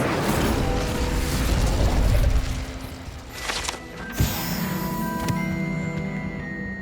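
The Incendio fire spell is cast in Hogwarts Legacy: a loud roaring whoosh of flame bursts out and fades, followed by sharp magical chimes and a lingering tonal shimmer.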